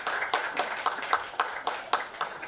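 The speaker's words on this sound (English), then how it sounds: "can we please have a big round of applause for Isha Agarwal here" A small audience at a book event claps for author Isha Agarwal: a modest, fairly close patter with several distinct, roughly even louder claps standing out over about two and a half seconds.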